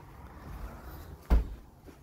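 A door is opened during a Trading Standards raid on premises selling illegal tobacco: a single short, close thump or knock stands out over a quiet room hum.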